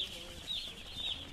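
Chickens in a brooding shed chirp softly, a few high, thin peeping calls rising over a faint background hum, quiet and steady with no talk.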